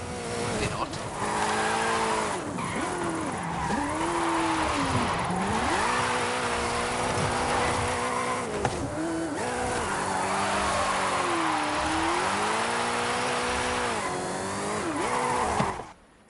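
A car drifts in a Forza game, its engine howling and swooping in pitch through repeated slides while tyres squeal. A voice talks over it throughout, and the sound cuts off abruptly at the end.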